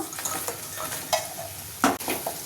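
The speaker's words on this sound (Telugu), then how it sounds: "ఇప్పుడు మనం ఫ్రై చేసి పెట్టుకున్న ముక్కలు వేసుకుందాం" Fried taro pieces stirred in a pan with chili powder and salt, a soft steady sizzle broken by a few louder scraping stirs of a spoon near the end, no voices.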